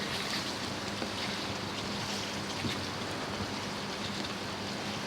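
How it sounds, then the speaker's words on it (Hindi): Yogurt sizzling and frying with tomatoes in a pan while making chicken koila karahi, a steady continuous hiss and crackle close by with no talking. "दही डाल के भून लेंगे।"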